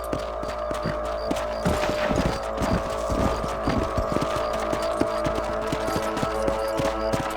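Horse hooves clip-clop steadily while riding on a ranch property in the video game Red Dead Redemption, a continuous rhythmic trot mixed with game music and ambient sound.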